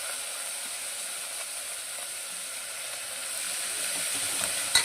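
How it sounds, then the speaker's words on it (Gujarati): Onion and potato sautéing with ginger garlic paste in a pan give a steady, close hiss of sizzling, with faint stirring scrapes and a brief clatter at the very end; no one talks. "બરાબર સાંતળવાનું."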